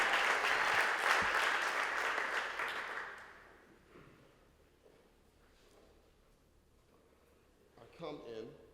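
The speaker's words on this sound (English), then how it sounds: "Give her another round of applause" Audience applause in a live spoken-word or art performance setting, loud and dense for about three seconds, then fading to scattered claps and quiet room noise before a voice speaks near the end.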